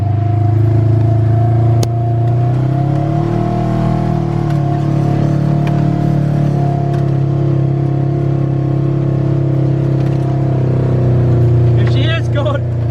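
Polaris RZR side-by-side rumbling down a steep hill in 4-wheel drive, a steady loud low engine drone with slight rises in pitch, plus a few sharp knocks near the end.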